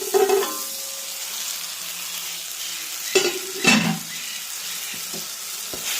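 Spices for chickpea curry sautéing in a pan, a low continuous sizzle interrupted by several scraping stirs and light clinks of a spoon against the pan, close up with no talking.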